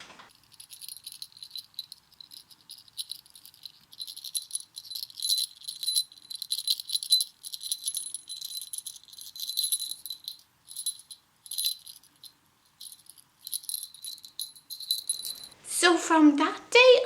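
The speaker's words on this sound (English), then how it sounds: "And for beetles, she heard this sound." A rattling, jangling puppet-show sound effect meant as beetles, a fairly quiet dry clatter of fluttering bursts that continues for about fifteen seconds before a voice briefly cuts in at the end.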